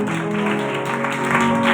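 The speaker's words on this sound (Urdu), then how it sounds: "میں چاہتی ہوں تینوں بہنوں کے لیے زوردار تالیاں." Applause from a church congregation for three sisters, a steady dense patter with a faint held musical tone running beneath it.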